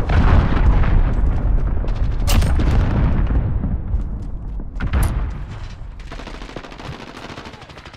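A cruise missile strike in the Call of Duty Modern Warfare beta detonates amid dense rapid gunfire, with loud booming bursts over a constant roar of battle that slowly thins.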